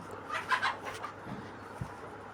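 Fayoumi chickens clucking in a small backyard flock, a few soft overlapping clucks and chirps close by, followed by a brief low thump near the end.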